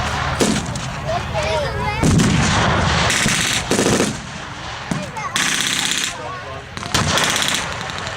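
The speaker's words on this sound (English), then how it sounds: "I think that was kind of a heavy explosion" Heavy explosions from 500-pound bombs, a loud, dense run of booming blasts and rapid gunfire-like bursts that overlap and continue almost without pause.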